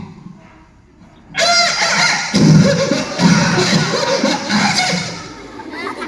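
A voice imitates an old, sickly rooster crowing, a loud strained and raspy call rising after a brief quiet start and holding for several seconds.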